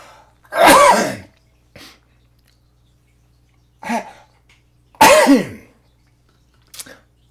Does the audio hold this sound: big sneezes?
yes